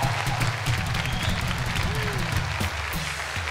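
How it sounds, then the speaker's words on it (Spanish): A studio audience at a Caracol TV show applauds in a loud, continuous wash of clapping and crowd noise, with voices talking over it throughout. "Un aplauso."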